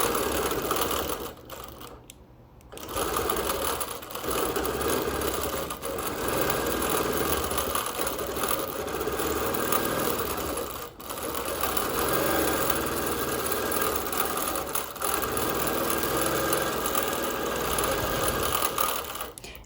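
Sewing machine free-motion quilting a meander pattern on wool, running in a steady continuous mechanical whir throughout with a brief stop near the start and a short dip midway.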